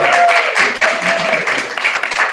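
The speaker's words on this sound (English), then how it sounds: "So another round of applause for Brianna." Audience at a museum exhibit design talk applauds a guest speaker, steady close clapping with a few voices mixed in, continuous for a couple of seconds.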